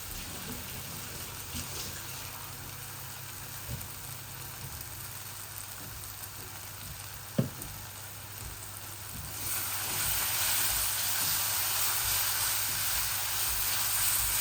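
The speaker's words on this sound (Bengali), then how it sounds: "আমার পেঁয়াজগুলো আধা ভাজা হয়ে গেছে," Chopped medium onion fries in a pan as a base for a bhuna, giving a soft, even hiss that grows fuller and louder toward the end, with one faint tap midway.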